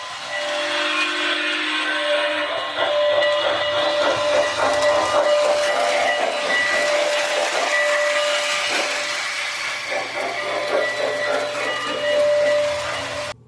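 An MTH Railking SP Daylight GS-2 model steam locomotive runs past with a continuous mechanical chuffing rumble, a sustained whistle tone and some hiss, close and steady throughout.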